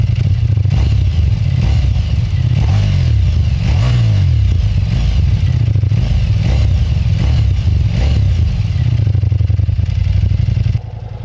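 A Ducati XDiavel V4 motorcycle engine in touring mode while riding, a loud continuous deep drone with uneven pulsing and rising revs throughout, close and unbroken until it drops slightly at the very end.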